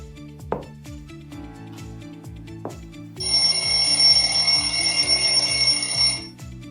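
A classroom timer counts down with a steady repeating tick, and a bright electronic ringing bell sounds for about three seconds as the time runs out, then the ticking carries on alone.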